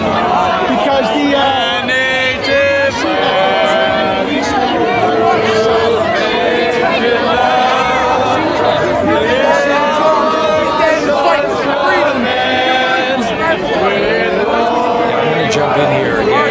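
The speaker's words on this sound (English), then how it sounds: "Evan being drowned out by the crowd noise, people singing" Dense protest crowd in Ottawa during a police crackdown: a loud, continuous wash of chatter, shouting and people singing together, steady throughout with no pauses and no single voice standing out.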